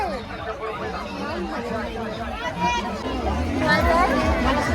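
Many voices overlap in a steady crowd babble at a packed village fair near a temple, a close, busy hubbub with individual speakers surfacing over the murmur.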